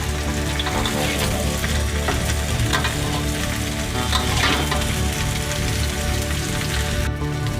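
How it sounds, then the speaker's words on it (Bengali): Mixed vegetables for Bengali shukto frying in a pan, giving a steady, dense sizzle that runs for the whole stretch with a few stirring scrapes. The sound is close and fairly loud, and no one speaks. "দেখুন সবজিগুলো একটু ভাজা ভাজা করে নিচ্ছি, ভাজছি।"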